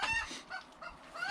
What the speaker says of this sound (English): Ian, shut that chicken up.